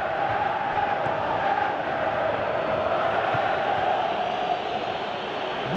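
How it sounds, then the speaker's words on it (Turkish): Applause and crowd noise fill a football stadium in the video game PES 2018, a steady, dense roar that holds at an even level throughout without any clear peaks. "Bu çalım tribünlerden alkış aldı."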